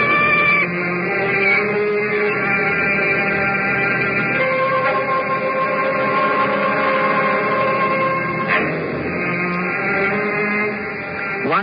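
Cat meowing in an old radio mystery drama, a long drawn-out wailing cry that rises and wavers, loud and close, then breaks into a second plaintive call near the end.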